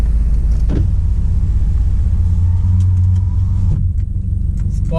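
A BMW 320 GT's engine runs in Sport+ mode with the gearbox in S, ahead of a 0–100 launch. A steady low idle drone fills the cabin, broken by a couple of brief soft clunks.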